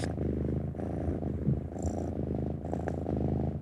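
A domestic cat purrs close up, a steady rhythmic low rumble pulsing with each breath in and out, loud and alone without any voices.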